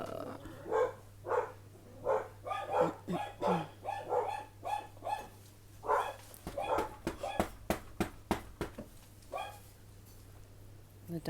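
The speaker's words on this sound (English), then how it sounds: "The dogs have started." Several dogs barking outdoors in a neighborhood, a steady run of repeated barks and yips at moderate distance, with a low steady hum underneath.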